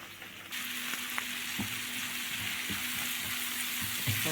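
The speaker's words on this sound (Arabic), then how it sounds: "هنزل بقى بيه زي ما هو كده على الكبده بتاعتي بالشكل ده، وتدي بقى تقلبتين حلوين كده" Sautéed vegetables stirred into liver frying in a pan sizzle loudly and continuously, broken by a few sharp scraping knocks of the spoon as the mixture is turned.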